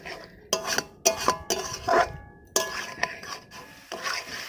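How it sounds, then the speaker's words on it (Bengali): Cauliflower being stirred in a pan for a roast, a series of sharp spatula scrapes and clinks against metal coming in uneven bursts, close by with no talking. "ফুলকপিটা দিয়ে একটু নাড়াচাড়া করে নিয়েছি।"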